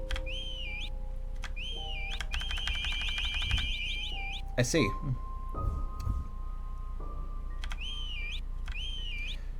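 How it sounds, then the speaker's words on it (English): Rising and falling whistle calls in a dragon video game, repeated in short bursts over steady game ambience with sustained tones and a rapid warbling passage; a voice briefly speaks. "Man, he's really scared of my whistling."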